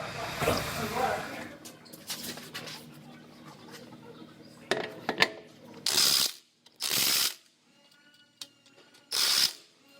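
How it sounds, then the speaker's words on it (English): Short loud bursts of a welder zapping the final two welds on a damaged car body panel, three or four sharp crackling pulses separated by pauses, following mechanical clicking and a voice speaking early on. "I'm gonna go ahead and zap those last 2 welds"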